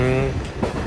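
Former Gonō Line KiHa 40 diesel railcar pulling away from Hokkeguchi station on the Hōjō Railway, a loud steady engine drone with tonal hum heard from inside the car.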